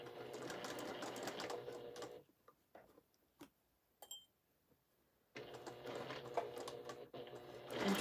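A sewing machine stitches a scant quilt seam on curved pieces, a steady dense whir running for about two seconds, pausing briefly with a few soft clicks, then starting up again and running to the end.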